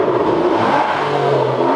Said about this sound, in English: Low RPMs, the car sounds really good.